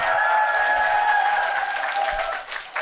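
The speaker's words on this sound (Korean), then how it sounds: "박수가 그쳐야 강의 시작하는데." Dense audience applause fills a lecture hall before a talk begins, loud and continuous with a steady sustained tone running through it, then thinning toward the end.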